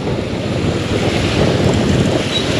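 Floodwater rushes over a road during a typhoon in July 2024, a dense, loud, continuous roar like surf, mixed with wind buffeting the microphone.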